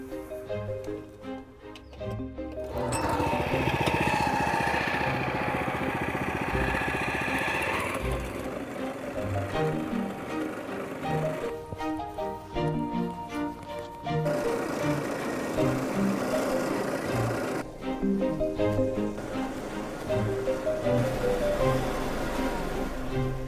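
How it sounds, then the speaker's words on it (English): A turf cutter strips away an existing lawn, its engine droning steadily and loudly for almost the whole stretch after a brief quieter opening. "the next step is to remove your existing lawn using a turf cutter."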